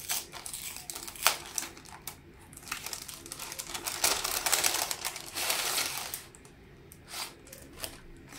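Crinkly rustling and tearing of a package being opened, with sharp crackles and bursts of paper or plastic wrap handled close up, busiest in the middle then easing into a few scattered rustles.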